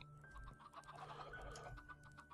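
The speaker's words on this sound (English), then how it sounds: "you can obviously hear the chickens." Several video game chickens cluck in a continuous, overlapping chorus, moderately close, over faint background noise.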